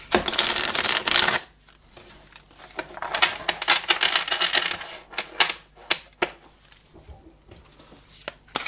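Archetype oracle cards shuffled for a quick reading: a dense, loud riffle at the start, then a run of looser slaps and flicks of cards handled close by, with no talking.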